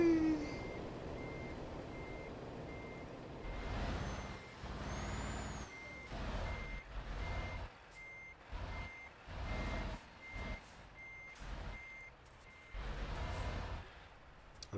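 In the Euro Truck Simulator 2 video game, a Scania truck reverses with a steady series of evenly spaced electronic beeps, faint and quiet over a low rumbling engine that surges and dips.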